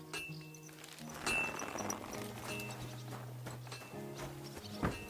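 Horse hooves clip-clop at a steady walking pace in the medieval video game Kingdom Come Deliverance 2, faint and even, with light clinking of tack and ambient game music beneath.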